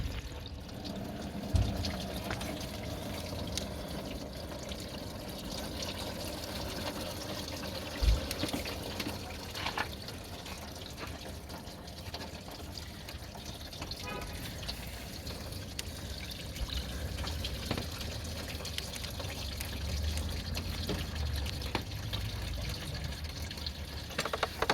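Coolant drains from a Toyota Sienna's water pump into a pan, a soft continuous pouring trickle with a few metallic knocks, steady and close throughout.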